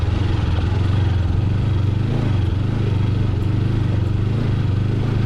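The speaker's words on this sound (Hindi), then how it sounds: "पथरीले ट्रैक के ऊपर बाइक जो से बार बार जंप कर रहा था" A motorbike labours up a steep, rocky mountain track in Sharan forest, Naran Kaghan, its engine droning steadily and close, with faint clatter over the constant rumble.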